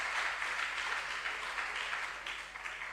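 An audience at a regional junior science and maths school quiz contest gives a round of applause, a dense, fairly faint wash of clapping that holds steady throughout.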